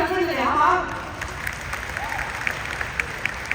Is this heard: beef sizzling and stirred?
no